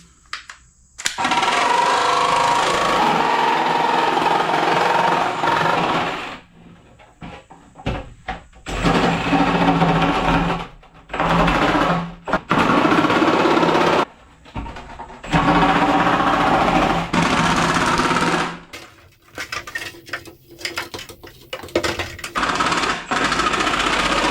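A power saw fitted with a general-purpose blade cuts an opening for a 12V RV fan, a loud, harsh buzzing that runs in long bursts, halts briefly and starts again several times.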